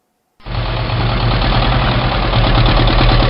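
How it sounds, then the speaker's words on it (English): A tank engine starts abruptly and runs loud and steady with a deep rumble and a continuous mechanical roar, alone and close. "tank"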